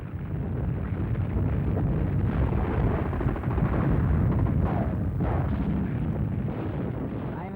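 A 50mm Pak 38 anti-tank gun mounted on a 1-ton half-track fires amid city street fighting, heard as a dense, rumbling roar of heavy gunfire and blasts sustained throughout with wind buffeting the microphone.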